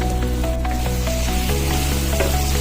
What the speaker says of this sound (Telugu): దోసకాయని ఆయిల్లో మంచిగా వేగనివ్వాలి.